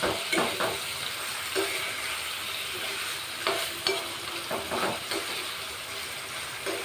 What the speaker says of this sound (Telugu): దీన్ని ఆనియన్, పచ్చిమిర్చిని ఒకసారి మంచిగా కలుపుకోవాలండి.